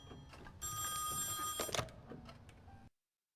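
A telephone rings inside the horror video game Song of Horror, a loud electronic bell trill starting abruptly, followed by a clunk as it is picked up before the sound cuts off.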